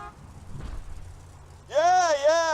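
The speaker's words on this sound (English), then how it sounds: "Just drive up and honk your horn." A vehicle horn honks in the video game Borderlands 2: a loud, bright, wavering tone that cuts in suddenly after quieter low background rumble and holds for nearly a second.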